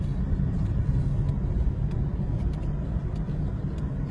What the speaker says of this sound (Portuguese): Caminhão da Litoral, velho.